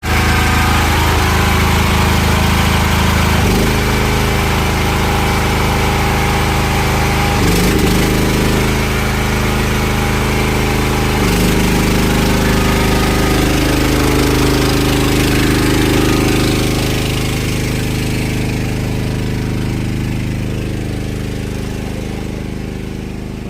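A petrol-powered generator bought for a fish pond runs loud and close under a load of three lines powering aerators, a constant heavy engine drone with a few brief surges and a slight drop in pitch toward the end.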